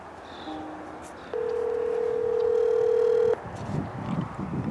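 Telephone dialing on a call to a county State's Attorney's Office: a couple of short keypad tones, then one long steady tone lasting about two seconds, heard over faint background noise.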